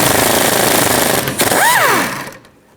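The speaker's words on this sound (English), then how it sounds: "Take a 16mm socket and take this nut off." Rattling impact-wrench hammering on a 16mm sway bar link nut on a 2004-08 Nissan Maxima rear suspension, loud and continuous for about two seconds, then winding down with a falling whine before fading out.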